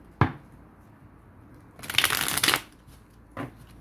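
Playing cards shuffled for a tarot-style reading: a sharp riffle burst in the middle, framed by brief card taps and snaps, close and fairly quiet with no talking.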